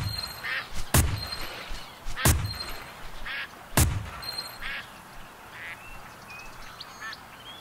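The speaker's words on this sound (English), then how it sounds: "No, I get to play with a duck call." Duck call quacks sound in a Duck Dynasty PC hunting video game: repeated nasal quacking runs under three sharp, loud blasts spaced a second or so apart, with ambient game noise between.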